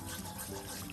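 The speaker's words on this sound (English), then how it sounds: "So I'm gonna add in my hot water." Hot water poured into oxtail soup stock, a dense, continuous splashing gush of liquid, close and steady throughout.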